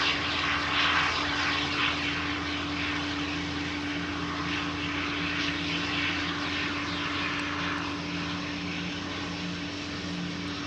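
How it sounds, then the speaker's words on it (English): KLM Embraer E195-E2 at Amsterdam Schiphol with jet engines starting to spool up, a continuous roaring whine over a steady drone, loud and close, holding fairly even across the stretch. "I'm thinking it is spooling up, it is turning on the engines."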